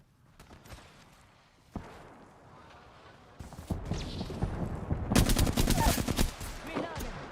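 Rapid video-game gunfire crackles in bursts, starting sparse and building into a dense, loud volley near the end, with sharp single shots and automatic strings layered over battle noise.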